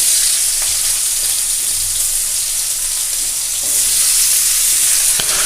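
Bitter gourd pieces frying in hot oil left over in the pan, a loud, dense, continuous crackling sizzle heard close up with no voices.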